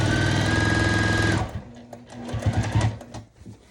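A sewing machine runs steadily and loudly for about a second and a half while back stitching a rag quilt border, then stops, leaving clattery handling noises and fabric movement.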